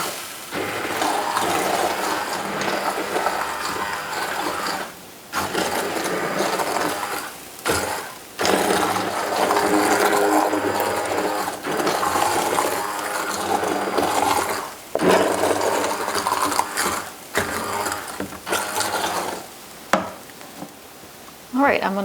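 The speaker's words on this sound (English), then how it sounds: "now I'm going to use my immersion blender and blend up and puree this sauce" An immersion blender purees a pot of cooking tomato pizza sauce, its motor whirring loud and close in long continuous bursts broken by a few brief pauses.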